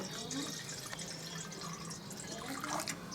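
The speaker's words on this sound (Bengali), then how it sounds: "কড়ায় পরিমাণ মতন জল দিয়ে দেবো" Water is poured into a wok on the stove, giving a steady, close splashing rush that continues for several seconds.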